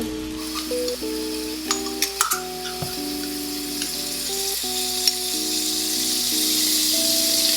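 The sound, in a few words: vegetables sauteing and browning in pans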